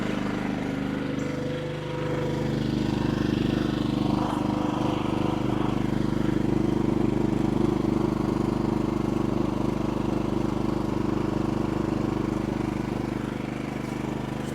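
A NOVUS portable gas generator engine runs steadily right after starting, with a constant close mechanical hum and drone that holds unchanged throughout without pauses.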